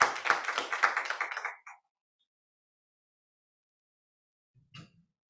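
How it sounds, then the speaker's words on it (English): Applause at an apprenticeship graduation ceremony: a short burst of many hands clapping fades out within two seconds, followed by silence and one faint knock later on. "Come keep the applause going"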